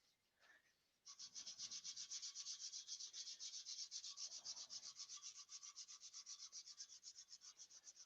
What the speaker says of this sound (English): I just need to sand that edge a little bit by hand